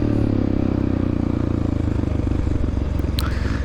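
A 1993 Honda XR600R motorcycle being ridden in an amateur cross-country race, its engine a steady, loud, close drone with rapid clattering pulses throughout and a brief higher whine near the end.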